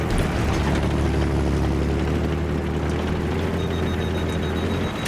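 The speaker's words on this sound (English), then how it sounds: "That helicopter, is it?" A helicopter in the video game Battlefield 3 drones steadily at close range, its low rotor thump and engine hum continuous and loud from start to finish.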